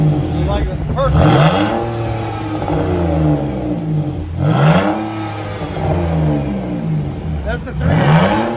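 A 2000 BMW 323i with a 2.5L inline-six and straight-piped 3-inch exhaust revs repeatedly, loud and close, each blip rising then falling in deep rasping sweeps, with people talking over it.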